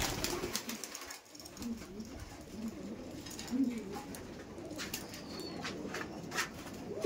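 Male and female pigeons, a pair offered for sale, coo softly and repeatedly in low, rounded throaty calls, faint and fairly close, with light background rustle.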